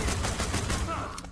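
Rapid gunfire in The Walking Dead: Destinies video game comes as a quick run of close, punchy shots over about a second and a half, with a voice briefly mixed in.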